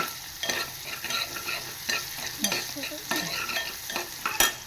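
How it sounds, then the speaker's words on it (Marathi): Asafoetida stirred and fried in hot oil with onion for surnachi bhaji, a steady sizzle broken by repeated spoon scrapes against the pan, close and fairly loud, no voices. "हा हिंग छान असं परतवून घ्यायचं."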